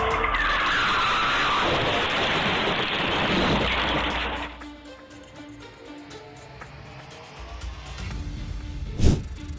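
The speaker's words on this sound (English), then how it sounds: "Car crashes into home in Roland Heights." A car in Roland Heights skids on the road, giving a loud, broad tire-scrubbing rush for about four seconds before it drops away to quieter ambience, then ends in a sudden sharp impact near the end.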